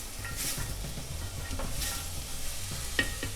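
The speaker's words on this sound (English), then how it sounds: "Now we're just going to sweat those onions till they're nice and translucent." Onions and minced garlic sweating in a pan, a soft steady sizzle with a few stirring scrapes and a light clink near the end.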